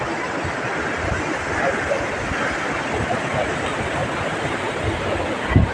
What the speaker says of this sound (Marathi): ह्या समुद्रावर एवढ्या सुंदर लाटा मारतात